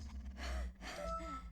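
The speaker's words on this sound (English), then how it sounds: "It sounds like heavy breathing or like chomping or something like that." Heavy breath-like huffs, two close exhalations in a short span, quiet and isolated, heard in The Legend of Zelda: Ocarina of Time.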